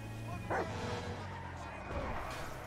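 A dog in the GTA 5 video game gives a couple of short yipping barks, mid-distance, over a steady engine-like drone with a voice talking in the background.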